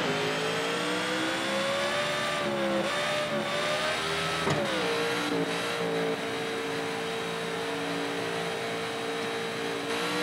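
A NASCAR '14 stock car engine screams continuously while qualifying at Las Vegas, a loud steady roar with shifting pitch as it accelerates and briefly lifts around a few moments, with no talk.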